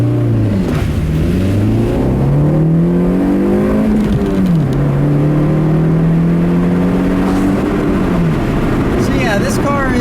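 A 2012 Honda CR-Z manual hybrid in sport mode accelerates hard from inside the cabin, its engine note climbing through gear changes in steady rising sweeps while a driver talks over it.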